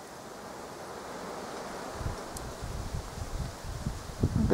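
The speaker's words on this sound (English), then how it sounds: "Bit windy today." Wind gusting outdoors in a steady broadband rush, with low buffeting thumps growing stronger toward the end, no voices present.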